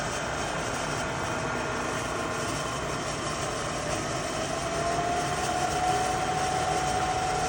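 Spindle of a Trak DPM CNC vertical bed mill with ProtoTrak MX3 control, in high gear, whining steadily near 4200 RPM as its pitch slowly shifts while the speed is changed, a constant loud machine drone with no talking.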